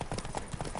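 Rhythmic clip-clop of horse hooves in The Witcher 3, several quick steady hoofbeats close by at a trot, filling the short moment with no talk.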